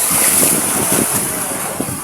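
Strong wind and rough waves at sea make a loud, continuous rushing roar that buffets the microphone up close.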